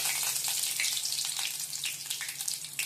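Fennel seeds and a cinnamon stick spluttering in hot oil while tempering for prawn thokku, a dense bright continuous fizz with rapid crackling bursts, close and steady throughout.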